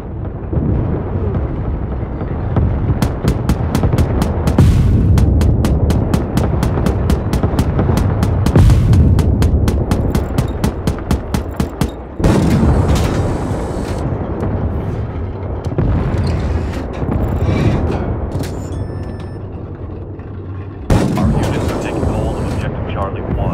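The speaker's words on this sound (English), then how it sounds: "Artillery fire incoming." Artillery explosions in the World War 3 multiplayer game, heavy booming rumbles layered over dense rapid gunfire and a steady low battlefield roar, with bursts at intervals and radio-style voice callouts over the top.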